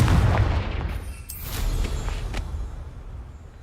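A Confringo spell explosion in the Hogwarts Legacy video game, a loud booming blast with a rumbling low tail fading over a few seconds, followed by a couple of sharper cracks.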